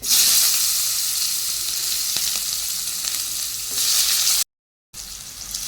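Nigella seeds and onion frying in hot oil, a loud, bright continuous sizzle with a few faint stirring clicks, close up, cut by a brief gap near the end.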